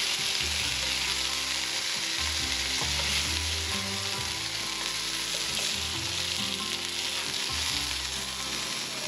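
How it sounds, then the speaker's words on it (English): Rabbit meat sears in a hot pan with a loud, constant sizzle, spattering fat crackling close up over the whole stretch, with faint clinks underneath and no talking. "sear the meat for 5 minutes on each side"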